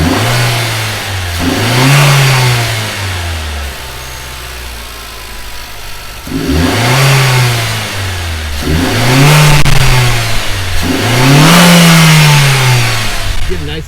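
A Nissan engine fitted with a Nismo cold air intake revs hard in repeated bursts up close, each rev swelling and dropping back to idle, the intake audibly drawing air during the pulls.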